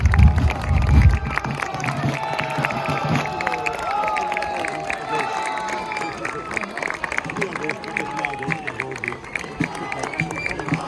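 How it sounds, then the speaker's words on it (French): An audience claps and cheers for historical reenactors at a French Napoleonic reconstitution event; dense, steady crowd applause runs throughout under a speaking voice. "Applaudissez les reconstituteurs."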